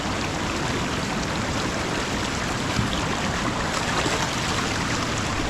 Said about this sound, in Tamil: தண்ணி ஃபோர்ஸ் பயங்கரமாக இருக்குங்க